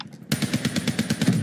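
Rapid automatic gunfire from a Call of Duty match bursts in after a brief quiet moment, a steady rattling string of about a dozen close, loud shots with no talking over it.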